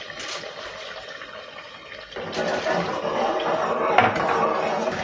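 Water poured into a frying masala of spices and yogurt in a pan gives a splashing hiss that surges partway through and stays loud, with a brief clink of utensils.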